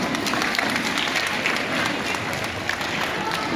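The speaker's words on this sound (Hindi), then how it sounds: "तो उन टीचर्स के लिए भी मैं चाहती हूँ कि आपको जोर से ताली बजाएं।" Loud, close applause from the audience at a school spring festival program, honoring the teachers, with a full continuous clatter of many hands and a faint crowd murmur underneath.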